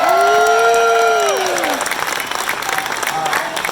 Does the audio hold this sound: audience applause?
yes